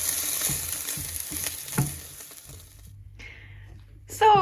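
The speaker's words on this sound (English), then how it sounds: "here I have the noodles cooking away" Noodles fry in a pan with a steady, close sizzle and occasional stirring scrapes, alone with no talking.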